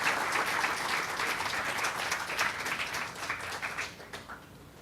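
An audience at a lecture hall welcomes a guest speaker with sustained applause, dense at first and gradually thinning into fewer claps as it fades.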